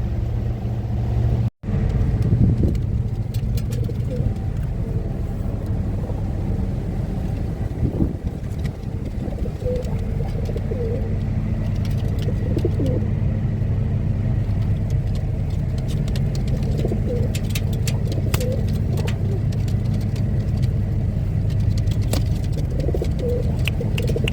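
Pigeons aboard a ship coo low and continuously over a loud, steady rumble of wind and engine noise, with occasional wing flutters and rustles throughout.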